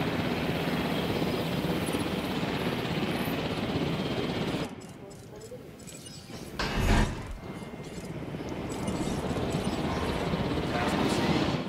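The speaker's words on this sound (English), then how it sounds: "I'm just gonna keep this helicopter in the area" A loud, steady helicopter drone in the video game Jurassic World Evolution drops away partway through, a brief thump sounds, then the rotor roar returns and builds again.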